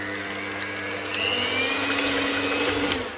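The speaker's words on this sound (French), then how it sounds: "Je fouette tout ça pour l'instant." Electric mixer whisking cold cream and mascarpone for a chocolate cream cookie filling, a steady close motor whine that rises in pitch and loudness after the first second and holds on, with no talking.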